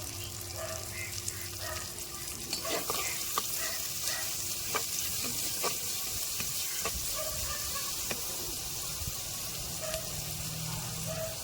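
Onions with mustard seeds and salt fry in a pan for a Tamil fish curry, giving a steady, close sizzle broken by the scrape and clatter of stirring, with no voices.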